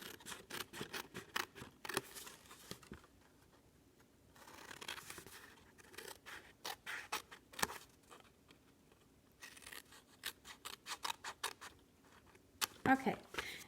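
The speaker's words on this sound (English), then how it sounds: "if you'll just bear with me while I cut all these pieces up" Scissors snip through paper pieces for a no-adhesive cube box, giving bursts of short, crisp cuts separated by quiet pauses, close and fairly soft.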